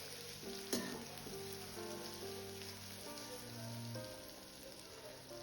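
Coarsely ground green peas frying in oil in a pan for Gujarati undhiyu, giving a steady, faint, rain-like sizzle throughout with one small knock near the start and no voices.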